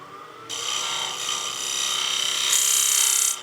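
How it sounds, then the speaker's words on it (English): A spindle gouge cuts into the concave underside of a wooden Christmas gnome spinning on a lathe, giving a steady hissing, scraping whir that begins abruptly and grows brighter and louder near the end, with no talking. "now's a great time to go in there with your spindle gouge"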